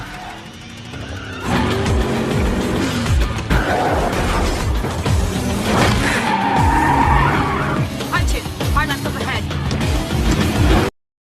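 Race cars in a Death Race film scene roar and skid, with repeated tire squeals, engine noise and crashing impacts, loud and busy throughout before cutting off abruptly.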